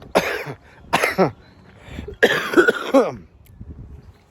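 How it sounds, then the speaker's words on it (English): A man gives a series of harsh, chesty coughs in close-up: two short bursts, a pause, then a longer run of rough coughing with throat rasp before trailing off. "that's that cough still coming out of me."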